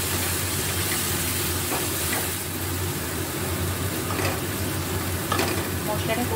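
Spices fry in oil and are stirred during the cooking of a Bengali cabbage dish, giving a loud, steady, close sizzle with occasional soft scraping from the stirring and no talking.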